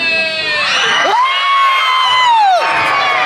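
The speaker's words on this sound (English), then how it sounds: "the proper response is to throw up your arms and scream like this" An audience at a Winnie the Pooh character dining show in Crystal Palace, Magic Kingdom, Walt Disney World, screams and cheers loudly with arms thrown up, children's shrieks rising and holding over the crowd.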